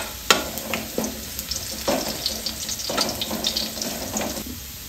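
Garlic sizzles steadily in a pan for Ilocano pinakbet, with repeated scraping stirs of a spatula breaking through the continuous frying hiss.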